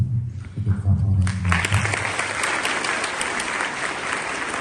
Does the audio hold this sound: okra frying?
no